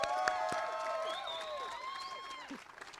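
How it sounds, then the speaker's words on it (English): Crowd applause and cheering for students at the opening of El Centro, with shouts and whoops over the clapping at moderate loudness, fading slightly toward the end. "First, a round of applause for the students."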